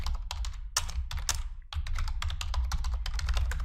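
Rapid, close typing on a computer keyboard while entering data in Excel, crisp key clicks in quick bursts with a short pause partway through.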